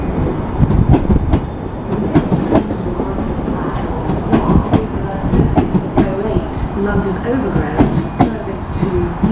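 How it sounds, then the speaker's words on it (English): A London Underground Bakerloo line 1972 Stock train rumbles and clatters through Stonebridge Park station with rhythmic clicking of wheels, while a platform announcement voice speaks over the noise. "The next train to arrive at platform 2 is the Bakerloo Line."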